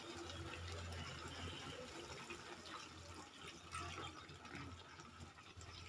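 Water pours steadily into a pan of potato and tender drumstick curry, a continuous broad splashing rush that fills the whole moment at moderate level with no talk over it.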